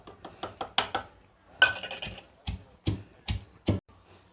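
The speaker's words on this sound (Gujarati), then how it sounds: "મરચાં લસણ અને આદું એ નાખી દેશું એને પણ આપણે એકદમ ઝીણું કરી નાખવાનું છે આમાં જ ખાંડવાનું છે" Chillies, garlic, ginger and onion are pounded in a mortar with a string of sharp, evenly spaced thuds and clinks, about a dozen close strikes with short pauses between them.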